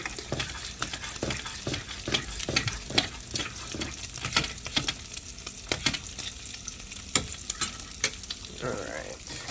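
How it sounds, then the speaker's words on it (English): Cheese sauce for cheese fries is stirred in a pot, a spoon scraping and tapping the sides in a steady rhythm of sharp clicks over a soft bubbling sizzle, close by, while bacon cooks nearby. "Just stir it."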